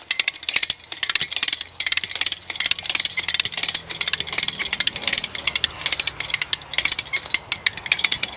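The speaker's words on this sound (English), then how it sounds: "Now I'm gonna start ratcheting this." A ratcheting pulling tool cranked repeatedly to tension and draw something down, producing rapid bursts of sharp metallic clicks in a steady rhythm, loud and close, with no talking.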